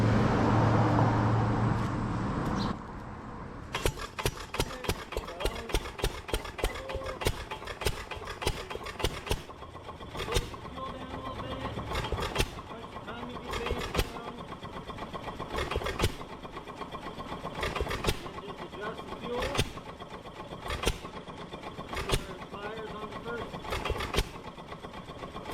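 A Stover CT3 stationary engine catches after a burst of cranking and settles into a steady idle, its regular thumping firing and sharp periodic clacks close and moderately loud over low background hum.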